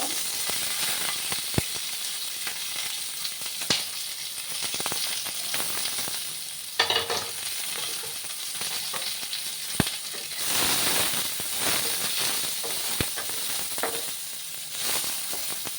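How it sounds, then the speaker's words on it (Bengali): Capsicum pieces frying in a pan with a soft continuous sizzle and hiss, broken by a few sharp clicks and taps of a utensil, no voices. "এবার দেখো, ক্যাপসিকামগুলো সামান্য ফ্রাই করে নেব।"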